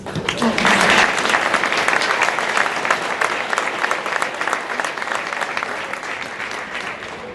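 A school spring concert audience applauds steadily, dense clapping filling the hall loudly at first and then easing slightly while continuing throughout.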